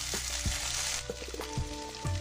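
Steamed sweet corn kernels tipped into a hot pan of oil with fried green chillies, giving a steady close sizzle with a few brief clatters and scrapes as they land.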